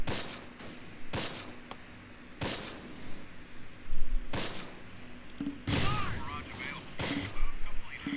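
Tank and gunfire exchange in Close Combat during a night assault: several sharp, widely spaced gunshots and heavier booms ring out over a low rumble, some cracks near and loud, others further off.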